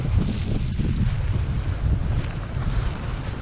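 Strong blizzard wind on Brighton Beach, New York, buffeting the microphone in a steady, loud, roaring rush with no clear breaks and no voices.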